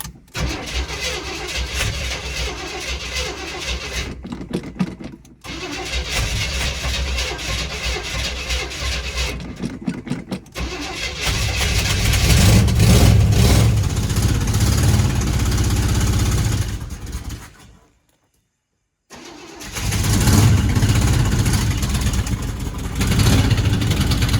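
A Chevrolet K5 Blazer squarebody, abandoned for about 20 years and running roughly, cranks and catches, then its engine idles loudly and revs up close by, cutting out briefly before roaring again.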